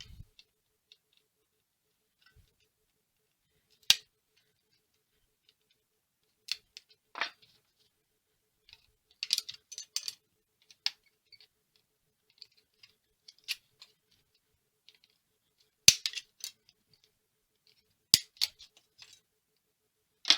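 Hand snips cutting the beveled, rolled-over edge of a metal servo adapter plate produce sparse, sharp snaps and faint ticks at irregular intervals over near silence.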